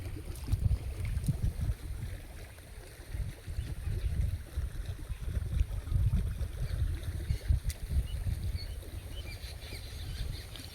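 Irrigation water runs steadily through a field channel on a farm, a continuous low rushing and gurgling flow that stays close and even, without any talk.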